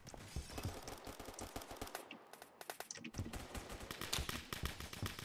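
Gunfire in the video game Phantom Forces, a quiet run of rapid, crackling shots with dense bursts and short gaps, a little louder toward the end, with no speech.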